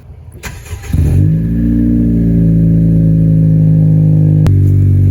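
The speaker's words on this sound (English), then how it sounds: "let's get a cold start up if you don't mind" A tuned 2018 Honda Civic Si sedan engine cold-starts: it cranks and catches, revs sharply, then settles into a loud, steady rumbling idle with a brief blip near the end.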